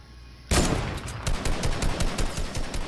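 Gunfire in the game Fortnite: a sudden loud shot, followed by a steady run of rapid, evenly spaced bursts close to the listener.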